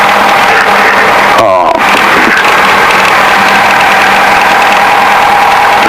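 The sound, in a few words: Piper PA28 aircraft engine running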